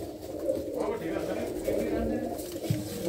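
Kept pigeons, large pairs of a Punjabi fancier's flock, coo in low, rolling, continuous murmurs close by, a steady layered cooing throughout.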